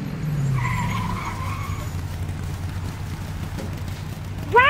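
Race car pulling into a pit stop, a loud low engine rumble with tire squeal and skidding that swells sharply at the end, no voices over it.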